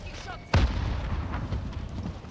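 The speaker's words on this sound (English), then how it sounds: "Throwing grenade." A grenade explodes in the Warzone video game, one heavy boom with a rumbling tail that fills the rest of the moment, following a faint tonal game sound.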